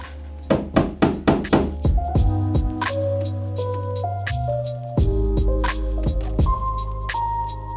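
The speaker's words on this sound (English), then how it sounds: "Just using a hammer and nails to hang them up." A burst of quick hammer strikes on nails into a concrete wall rings out up close, followed by slower knocks and resonant metallic tones lingering between blows.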